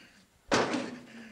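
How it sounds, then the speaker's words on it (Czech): A door in a 1988 Czech film is forced open with a single sudden heavy thud and crash that rings out briefly before fading, alone, with no voices. "Já vyrazím dveře!"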